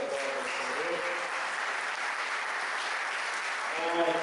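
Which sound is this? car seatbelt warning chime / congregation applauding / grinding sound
congregation applauding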